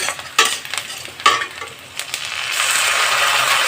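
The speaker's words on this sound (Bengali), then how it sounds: "কাঁচা লঙ্কা, পেঁয়াজ কুচিটা কিছুক্ষণ ভালোভাবে লাল লাল করে ভেজে নেব।" Onion and green chili frying in oil for a Bengali tilapia fish curry, with garlic, ginger and cumin paste added; close, steady sizzling with a few sharper bursts of stirring, the hiss swelling louder and more continuous toward the end.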